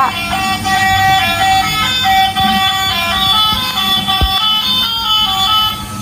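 A battery-powered orange toy truck plays a sustained electronic horn tune that runs loud and continuous through the whole clip, with no voices.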